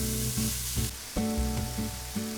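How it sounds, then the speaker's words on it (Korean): Shrimp and zucchini noodles sizzling in garlic butter in a pan, a loud steady frying hiss broken by the clatter of stirring, with no talking. "마늘 버터에 새우를 볶다가 애호박면을 투척해줍니다."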